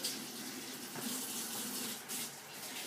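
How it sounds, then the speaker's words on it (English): A kitchen sink tap runs steadily while hands are washed after handling raw meat during a kids' cooking lesson, giving a continuous close splashing rush of water with no talk over it. "Just like Izzy and Clara, I'm going to come over here and wash my hands after I've touched raw meat"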